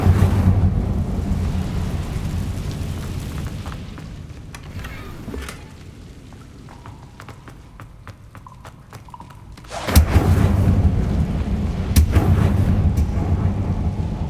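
Incendio fire spell cast in the Hogwarts Legacy video game: a loud booming whoosh of flame at the start, fading into quieter rumbling with scattered crackles, then another heavy fiery burst near the end.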